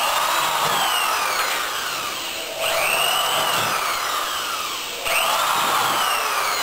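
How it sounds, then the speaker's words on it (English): A power drill whines steadily at high speed, dipping briefly twice as each hole is finished and a new one started. "we'll probably drill about every 3 inches or 4 inches"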